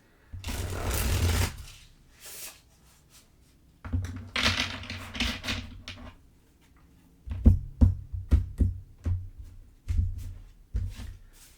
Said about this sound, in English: I'm going to shuffle it 5 times.